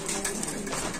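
Pigeons for sale at a market coo softly in a busy, noisy setting, their low murmuring calls blending into steady broadband background.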